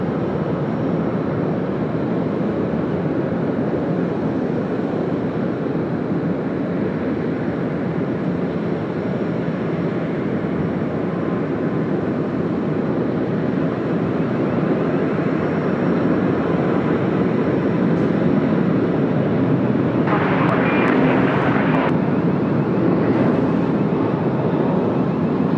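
An Emirates A380 airliner rolls for takeoff on Sydney Airport runway 34 left, a loud, steady broadband roar of engines and wind that holds for the whole stretch, without speech.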